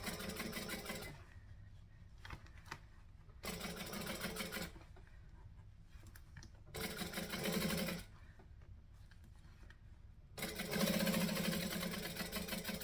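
A sewing machine stitches a fabric seam in four bursts of steady whirring, separated by quiet pauses while the fabric is realigned.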